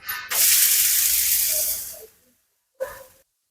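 A ghavane rice crepe sizzles on a hot pan right after being flipped: a loud, broad hiss that fades over two seconds, then a short sharp sizzle burst.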